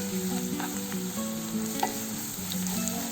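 Raw papaya curry frying with ginger garlic paste and turmeric in a pan, a steady close sizzle with light stirring scrapes throughout, no talking.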